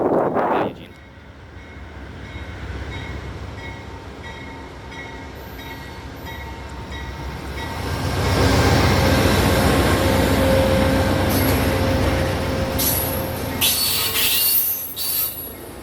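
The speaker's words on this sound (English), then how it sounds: "I can hear my train in the distance" A passenger train arrives at a station in Eugene, rumbling from a distance and growing steadily louder. Wheels squeal on the rails, and sharp high squeaks and hisses come in near the end as the train draws close.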